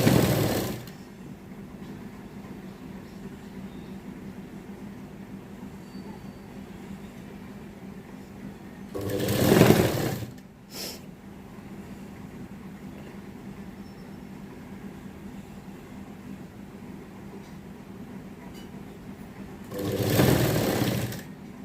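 A sewing machine stitches the hem of a baby frock in three bursts of rapid whirring, one at the start, one in the middle and one near the end, close by, with a faint hum between them.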